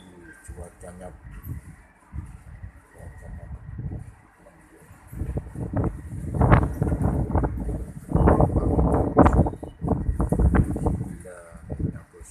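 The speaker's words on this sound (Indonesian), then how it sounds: "anginnya kencang sekali." Strong gusting wind buffets an outdoor microphone during bad weather near a housing complex, rumbling loudly and swelling in waves, with pigeons cooing and someone talking over it.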